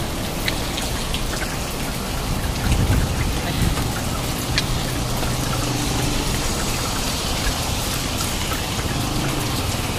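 Heavy rain pours down in Saudi Arabia, a loud, dense, unbroken hiss of drops pattering on surfaces for the whole stretch, with no clear talk.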